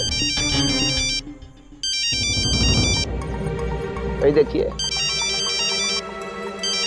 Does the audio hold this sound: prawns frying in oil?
no